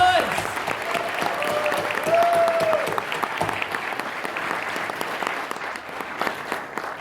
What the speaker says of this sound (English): please give them all one final round of applause